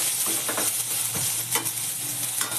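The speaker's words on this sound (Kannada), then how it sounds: "ಬಟ್ ಈರುಳ್ಳಿಯನ್ನು ತುಂಬ ಫ್ರೈ ಮಾಡಬೇಡಿ, ಒಂದು ಹಾಫ್ ಬಾಯ್ಲ್ಡ್ ಆದರೆ ಸಾಕು." Onions frying in a pan for gobi manchurian give a steady sizzle with a few soft stirring scrapes, close and continuous with no voices.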